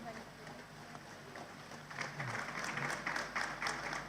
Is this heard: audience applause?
yes